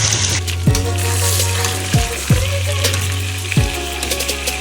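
Garlic sautéing in a pan, giving a loud, close, bubbling sizzle that swells in three regular bursts, with no voices over it.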